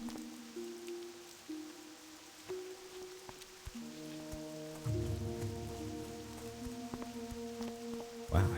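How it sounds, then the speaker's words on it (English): Heavy rain in World of Warcraft Classic, a steady soft hiss of falling water beneath sustained game music tones, fairly quiet throughout with no talking. "Wow, heavy rain."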